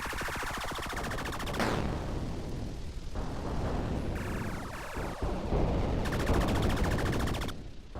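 Sustained automatic gunfire in the game Tripoly, a continuous rapid stream of shots running nearly the whole stretch alongside rumbling blasts, steady and loud throughout with no one talking.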